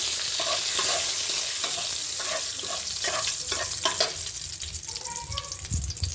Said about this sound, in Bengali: কড়াইতে তেলটা নিয়ে নিয়েছি। এবার এর মধ্যে দিয়ে দিচ্ছি আমি তেজপাতা